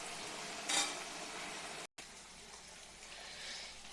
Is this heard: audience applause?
no